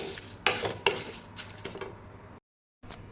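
Whole spices are dry-fried in a pan for chicken masala powder, with close, repeated scraping stir strokes and metal clinks over a soft sizzle, broken by a brief silence before one more stir.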